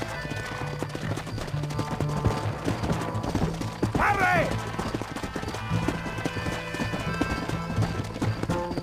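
Steady clip-clop of galloping hooves in Red Dead Redemption (2010) with a horse whinnying partway through, under music and a shouted voice.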